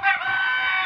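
A chicken on a poultry farm gives a single short, drawn-out squawking call, close and fairly loud, lasting under a second.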